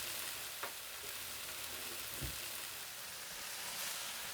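Onions and chives go into meat frying in a pan, producing a soft, even sizzle that holds steady over about four seconds, with a couple of faint knocks, heard close up and without voices.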